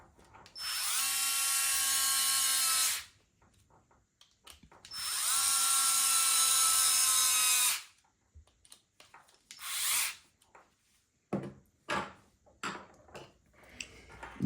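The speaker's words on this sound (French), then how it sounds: "On va finir au tournevis électrique." An electric screwdriver drives screws while a machine is assembled, with two long whirring runs of about two seconds each, then a short burst and several quick clicks and taps nearby.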